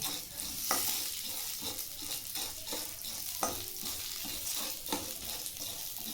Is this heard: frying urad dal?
yes